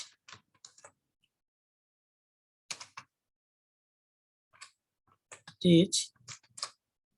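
A blog address is typed on a computer keyboard in short bursts of key clicks separated by pauses, ending in a quicker run, with a voice speaking briefly in between.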